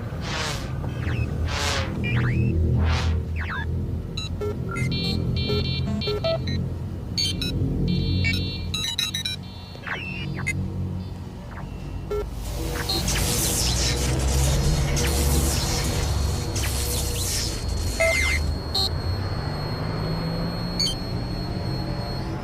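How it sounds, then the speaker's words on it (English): Engines start up and rumble for over twenty seconds, a dense, loud drone with whooshing swells and electronic buzzing tones, no speech heard. "start your engines"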